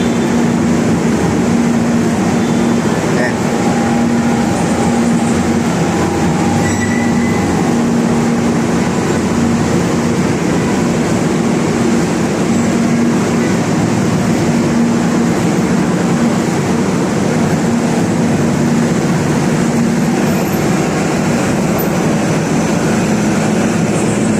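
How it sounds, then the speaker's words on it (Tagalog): Continuous steady rumble and hum of a moving train heard from inside, with a constant low drone and faint rattles, no talking. "sakay tayo ulit ng tren"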